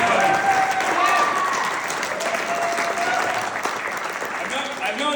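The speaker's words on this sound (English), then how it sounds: "Can we get one more round of applause for it?" An audience claps at a roast, a dense sustained round of applause heard up close, with a voice talking over it.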